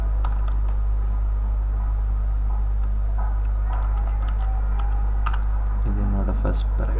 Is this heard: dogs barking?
no